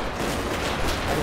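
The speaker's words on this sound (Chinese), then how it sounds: "这辆车要爆炸，爆炸" A car blows up in GTA5 while a Thanos mod is in use, a loud, dense, roaring burst of game explosion noise that fills the whole short moment.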